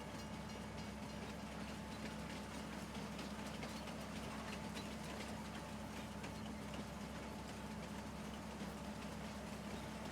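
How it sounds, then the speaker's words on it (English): Train running along a rail line in Farming Simulator 19 on the Agrodaje map, a steady, faint engine drone with a soft rhythmic rail clatter, continuous and even with no voices. "This is what I would call the roller coaster part of the train line."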